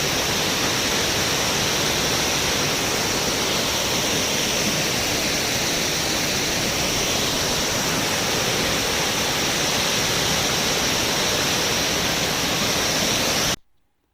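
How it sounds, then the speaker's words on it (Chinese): A waterfall in Neidong National Forest Park roars in a steady, dense, loud rush of falling water, continuous and unbroken before cutting off abruptly at the end. "现在我们走到了内洞国家森林公园里面的下沉瀑布"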